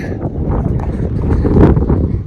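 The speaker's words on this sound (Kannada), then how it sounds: "ಗಾಳಿ ಜಾಸ್ತಿ ಇದೆ, ಕೇಳಿಸಲ್ಲ ಅನಿಸುತ್ತೆ ವಾಯ್ಸು" Strong wind on a hilltop buffets the microphone with loud, continuous low rumbling that gusts and swells throughout.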